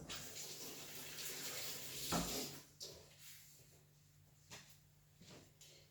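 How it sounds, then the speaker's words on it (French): Tap water runs steadily into a sink while hands are washed, with a soft continuous splash, a couple of sharper knocks and splashes, and a low hum underneath, heard faintly and without talking. "Je me lave les mains."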